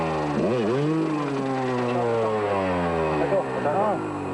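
A motorcycle bogged down in mud revs hard, its engine pitch swooping up and down in repeated surges near the microphone while a voice narrates over it throughout.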